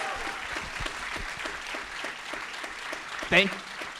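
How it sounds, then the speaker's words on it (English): Audience applauding guests at a live Q&A for a film, steady clapping for about three seconds before a short cheer or whoop near the end. "Let's everyone give them a round of applause."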